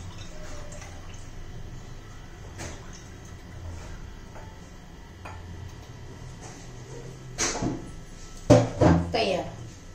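Chilled spiced buttermilk (mattha) is poured into a container, with a short, close burst of liquid splashing near the end that follows a stretch of quiet kitchen background.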